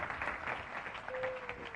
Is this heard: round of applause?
yes